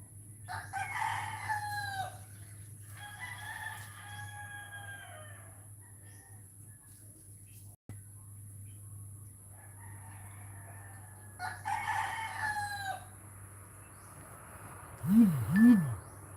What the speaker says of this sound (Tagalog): Cute na mga ibon.